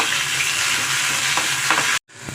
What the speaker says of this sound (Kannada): ಒಂದು ಸ್ಪೂನ್ ಎಣ್ಣೆ ಹಾಕೊಂಡು ಸ್ವಲ್ಪ ಮೆತ್ತಗಾಗೋವರೆಗೂ ಹುರ್ಕೊಂಬ ಸಾಕು.